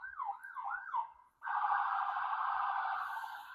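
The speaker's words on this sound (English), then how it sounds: "we have a lot of ambulances going by in this area." An ambulance siren wails loudly, first in a quick warbling sweep, then shifting to a steady high tone as it passes nearby.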